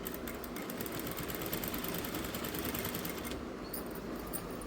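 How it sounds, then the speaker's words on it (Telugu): A sewing machine stitches the folded edge of a saree, running as a steady, continuous mechanical whir for several seconds, fairly close, with no talk over it. "చీర కొంగులు ఇలా కుట్టుకోవాలి"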